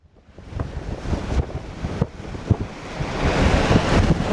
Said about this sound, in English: you can actually hear the wind better because the wind ain't hitting the mic as much